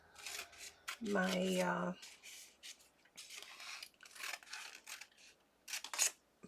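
Scissors snipping around a thin plastic packaging piece while trimming craft scraps, with a string of small close cuts and crinkles, a brief tonal hum in between, and a few spoken words.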